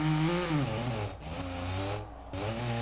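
A van engine with a buzzy, lawnmower-like or dirt-bike-like note revs up and down close by in loud rising and falling bursts, dropping away briefly twice.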